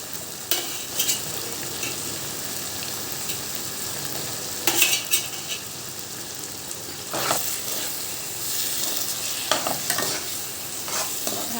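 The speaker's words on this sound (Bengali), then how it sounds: "আলুটা দিয়ে একটু কষতে হবে।" Fried potatoes and spices are stirred in a hot pan of oil for a fish curry, a steady sizzle close by, broken by repeated scraping strokes of a spatula against the metal.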